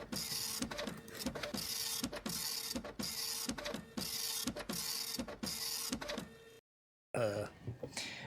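A printer runs with a rapid, regular mechanical chatter of repeated clicks and whirs, fairly close, briefly cutting out before a final burst of movement.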